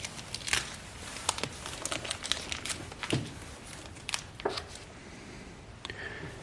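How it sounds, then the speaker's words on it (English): Tape peeled off parts of a 1988 Tradesman 6-inch bench grinder under restoration, making close, crackly tearing and crinkling sounds in irregular bursts, with no talking. "Let's get the rest of the tape off"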